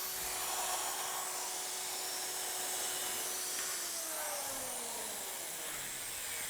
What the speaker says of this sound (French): j'arrête la perceuse pour dire que quand je fais ce genre de perçage